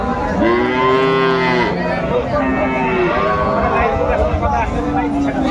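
Cow with her young calf mooing repeatedly at a busy village cattle market, the long lowing calls loud and close over a constant babble of crowd voices and talk.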